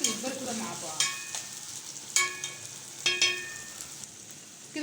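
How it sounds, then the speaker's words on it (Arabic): Onions and bell peppers sauté in a pan with a constant soft sizzle, punctuated every second or so by sharp metallic clinks and scrapes of a spoon against the pan, near and moderately loud, no talking. "عايزه كل دي البصل والفلفل يدبلوا كده مع بعض"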